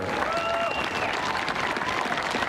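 Audience applause at Joe Biden's inauguration speech, a steady wash of many hands clapping at once, dense and continuous, heard from a distance through a broadcast.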